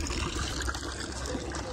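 Clothes being washed by hand in a forest stream: soft splashing and trickling water close by, fairly quiet and continuous, with a faint murmur of flowing current underneath.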